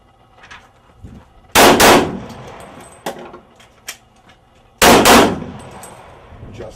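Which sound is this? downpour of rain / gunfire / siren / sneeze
gunfire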